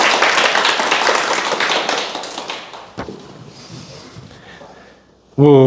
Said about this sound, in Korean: 우리 박수 한번 보내줍시다